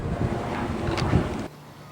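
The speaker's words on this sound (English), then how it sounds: "It's a little windy" Wind gusts buffet the microphone outdoors near a sailboat in hot Jacksonville, Florida, a rumbling blustery rush that swells and then drops off abruptly.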